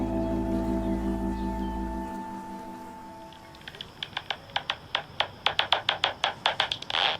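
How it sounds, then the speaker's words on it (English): A low hum fades out, then rapid clicking pulses speed up into quick rhythmic bursts, the sound of bats echolocating overhead, fairly faint. "That's the sound of nocturnal bats echolocating right above my head."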